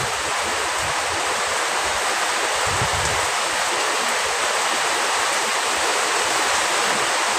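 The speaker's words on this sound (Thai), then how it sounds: "ฝนตกหนักเลย" Heavy rain pours steadily at night in Lamphun, Thailand, a dense, continuous broadband hiss with no break across the whole stretch and no voices.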